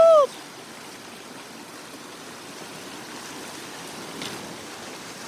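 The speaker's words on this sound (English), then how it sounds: "Good morning, water crossing." Flowing stream at a hiking trail water crossing on the Pacific Crest Trail, a steady, soft rush of running water heard throughout after a brief voice at the start.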